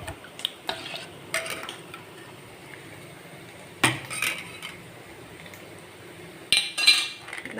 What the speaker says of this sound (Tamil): அதை கலக்கி விட்டுட்டு